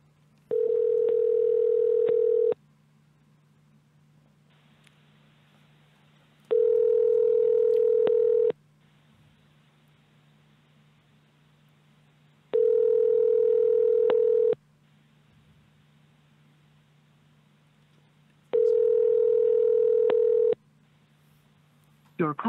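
A cell phone call ringing back over the line: four long, evenly spaced ring tones, each about two seconds with roughly four-second gaps, over a faint steady line hum.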